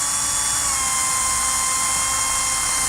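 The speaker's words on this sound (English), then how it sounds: "At the hole that's marked, drill it out to 1/8 of an inch." A power drill bores a 1/8 inch hole through a side step bracket for a 1994 truck, giving a steady, high-pitched whine that holds continuously and close up with no talking.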